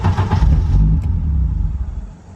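A 1991 Audi 90 Quattro S2 with a big turbo running, a loud, close engine rumble that swells and then settles to a lumpy idle, fading slightly toward the end.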